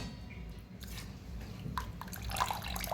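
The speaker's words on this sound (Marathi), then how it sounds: "तर असं पाणी सगळं निघून जाते खाली" Water trickles and drips away as rinsed rice and lentils drain, a soft uneven splashing with a few brief drips, fairly close and quiet.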